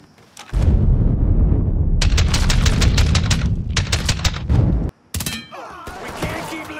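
A heavy grenade blast in the Mafia 3 game, a deep loud boom with a long rumbling tail, crackling bursts of gunfire over it, then a sudden cut and scattered sharp debris and clatter afterward.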